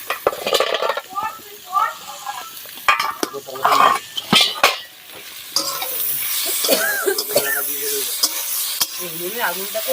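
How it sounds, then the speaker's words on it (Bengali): Ginger, garlic and tomato frying in a pan in a village kitchen, sizzling under repeated scraping and stirring clinks of a spatula, with someone talking over the cooking. "একটু আদা দিলাম, একটু রসুন দিলাম, দিয়ে হালকা করে ভেজে নেব"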